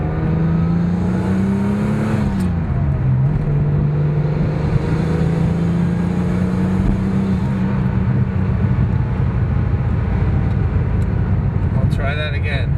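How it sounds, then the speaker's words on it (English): Porsche 911 Turbo 930 with a dual-outlet Maxflo muffler, driving under boost with a rising then steady engine drone and intake sound, loud and continuous; brief speech near the end. "And you can hear the air intake when you get in the boost, makes great sounds."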